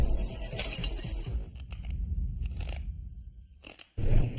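Glass is bitten and crunched between the teeth, close up, giving a dense run of sharp cracking and grinding with bright clinks and a louder crunch near the end, with no talking.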